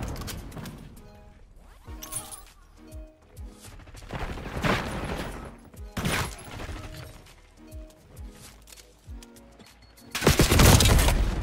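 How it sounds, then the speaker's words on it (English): Grenade explosions and gunfire in a shooter video game, a series of sharp booms and shots scattered across the clip, ending in a loud, dense blast of noise. "as I get killed by a grenade"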